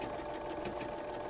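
A sewing machine runs steadily, stitching a zigzag on fabric as an embroidery test stitch-out, with a continuous close mechanical whir and rapid needle rattle throughout and no talking.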